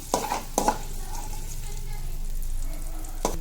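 Vegetables frying in a pan for an ivy gourd and amaranth chutney: a soft steady sizzle, opened and closed by a few sharp scraping strokes of stirring against the pan.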